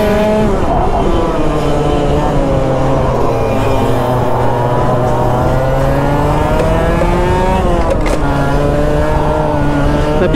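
Go-kart engines screaming at full throttle around a racing track, a loud, sustained high-pitched whine with shifting pitch as karts sweep past, filling the whole stretch without pause.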